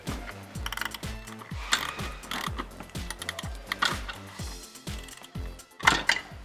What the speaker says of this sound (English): We're using a 16mm ratchet wrench on the top bolt here